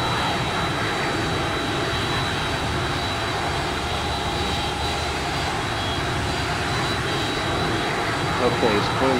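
Boeing 757 jet engines in the X-Plane 11 flight simulator drone steadily and loudly throughout, a continuous broadband roar with a faint high whine, no speech over it.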